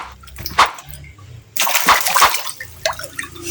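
Fish in a draining garden pond thrash in shallow water, giving a few sharp, close splashes and sloshes separated by brief pauses.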